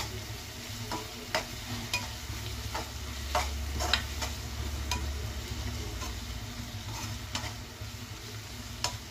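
A spoon stirs tomatoes with ginger-garlic paste and turmeric in a pan for an egg spinach curry, giving steady soft scraping and clicking strokes at close range over a low continuous sizzle, with no voices.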